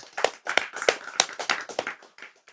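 Clapping from an audience at a talk, a burst of uneven, overlapping hand claps that rises and tapers over a couple of seconds, fairly close and loud with no voices over it.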